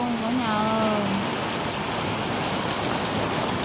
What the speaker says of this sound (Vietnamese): nhìn xem mưa coi, quá trời mưa to gió lớn luôn cả nhà